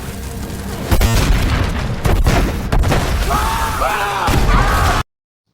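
A loud explosion booms as a hideout is blown up and set ablaze, followed by sustained crashing, rumbling and burning noise with scattered bursts.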